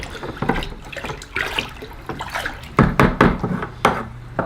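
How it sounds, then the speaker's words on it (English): Bone meal being stirred into water in a container gives irregular, close sloshing and splashing swirls in uneven bursts, with brief pauses between strokes. "now we're just going to give it a nice stir"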